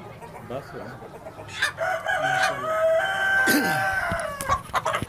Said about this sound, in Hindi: प्लाईमोट के जो मुर्गे हैं देखने में बहुत ही खूबसूरत हैं